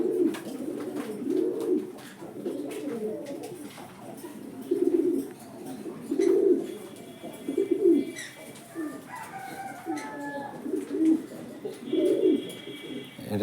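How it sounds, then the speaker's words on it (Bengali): Paired pigeons in a loft coo over and over in low, rounded bursts about every second or two, close and fairly clear, with faint higher bird chirps joining in toward the end and no speech. "আপনাদের সব কবুতর জোড়াই ভালো আছে।"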